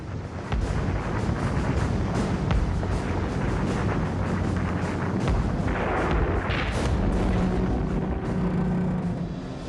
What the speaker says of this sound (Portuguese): Do convés do Tirpitz, os canhões desencadeiam uma barreira de fogo